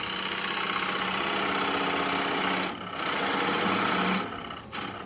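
Ray Frase turns wood on a lathe at Performance Line Tool: a steady whirring motor hum with a rasping cutting tone from the tool on the spinning wood, briefly dipping twice as the cut eases.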